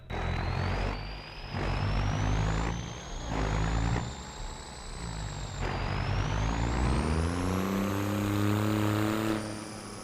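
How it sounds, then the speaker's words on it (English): A diesel engine in the Farm Simulator 2025 game rises in pitch with a steady turbo whine that climbs and dips over a low engine rumble, loud and continuous, with no speech. "so hear that turbo whine?"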